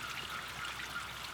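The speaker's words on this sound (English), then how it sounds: "And the waterfall is trickling down." Small waterfall trickling down beside a cave with an eternal flame, a soft, steady rush of falling water, faint and continuous, with no voices.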